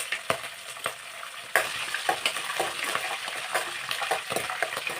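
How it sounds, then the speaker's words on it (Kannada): Green chilies and curry leaves fry in hot oil in a pan for raw mango rice, giving a steady close sizzle broken by scraping stirs and occasional clinks of a utensil. "ಹಸಿಮೆಣಸಿನ್ಕಾಯಿ ಸ್ವಲ್ಪ ಹಸಿ ಸ್ಮೆಲ್ ಹೋಗೋ ತನಕ ಫ್ರೈ ಮಾಡ್ಕೊಳ್ಳೋಣ"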